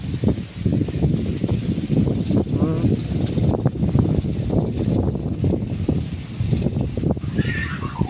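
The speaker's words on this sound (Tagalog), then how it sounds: "grabe ka kusog guys ang hangin" Loud wind batters the microphone in constant choppy gusts, with a few faint higher sounds near the end.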